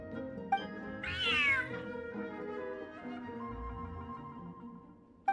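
A large cat in a video game gives a single rising-and-falling meow over a steady game soundscape of soft background music, with small clicks at the start and end and no talk.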